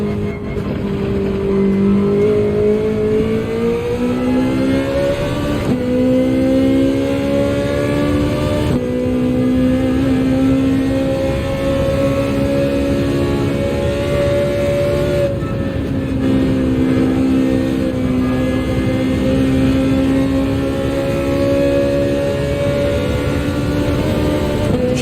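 A car engine in the racing video game Gran Turismo 7 revs steadily while driving, a loud sustained drone whose pitch climbs and drops through gear shifts, heard alone without talk.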